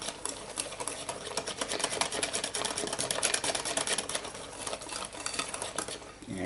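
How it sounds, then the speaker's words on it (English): A whisk beats cinnamon bun batter in a bowl, making a steady, fast scraping and clattering rhythm that runs close and continuous for several seconds. "Use a whisk because it makes it nice and smooth,"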